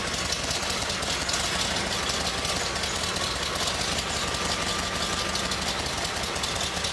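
A GMC truck engine idles steadily nearby with a rough, knocking rumble and constant mechanical clatter.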